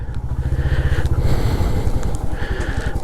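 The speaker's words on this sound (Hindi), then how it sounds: "इधर बाइक ज़रा साइड पे लगा लें पहले" A motorcycle engine idling and rolling slowly on a rough, partly unpaved road, its low steady throb close by, shifting slightly as it is pulled aside to park.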